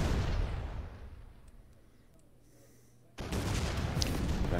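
A Meganuke blast in the artillery game Shellshock Live: a loud broadband explosion roar fades over about three seconds, then a second loud explosive burst hits abruptly.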